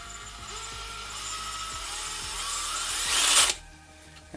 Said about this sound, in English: But you can feather that trigger.